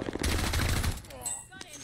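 Rapid automatic gunfire in a first-person shooter game, dense and loud for about a second before tailing off, with voices talking over the game sound.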